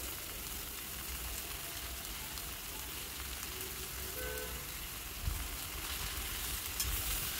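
Chopped Malabar spinach leaves and vegetables stir in a hot frying pan for a Bengali hilsa fish head dish, giving a steady soft sizzle with a few faint spatula knocks, close and continuous with no voices.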